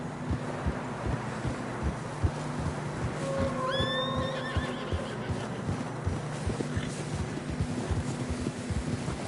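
A horse struggling through fresh snow on a narrow path whinnies once, a rising then falling neigh in the middle, over steady wind noise and a low engine-like drone with scattered crunching thumps.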